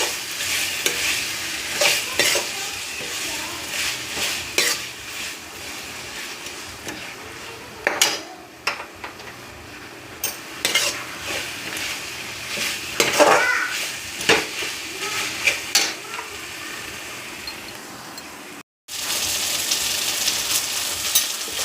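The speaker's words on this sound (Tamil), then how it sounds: "நல்லா பச்சை வாசனை போகிற அளவுக்கு நம்ம நல்லா வதக்கிப்போம்" A spatula scrapes and taps as ingredients are sautéed and stirred in a pan over a light sizzle, with irregular knocks scattered throughout. It cuts out briefly near the end, then the sizzle comes back steady and louder.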